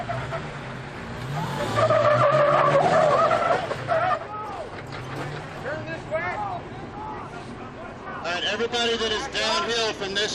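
An off-road Jeep revs hard in second gear at an off-road games event, its engine roaring loud and close with skidding tires, while people talk and shout over it.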